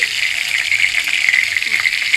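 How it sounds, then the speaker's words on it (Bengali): Fish sizzle steadily in hot oil in a frying pan, a continuous bright crackling hiss close by with a soft voice in the background. "আর এই তিনটে আছে তিনটে ভাজা হচ্ছে"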